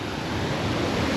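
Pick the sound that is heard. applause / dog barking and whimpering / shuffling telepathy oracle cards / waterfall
waterfall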